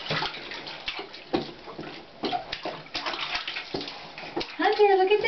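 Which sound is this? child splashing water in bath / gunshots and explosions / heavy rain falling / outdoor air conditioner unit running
child splashing water in bath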